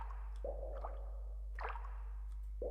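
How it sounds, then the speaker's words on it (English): Splashy water sounds from an indie Godot game: three soft plops and squishy splashes spaced about a second apart, close and moderately quiet, with faint dripping between them and no voices. "Yes, splash noise as well."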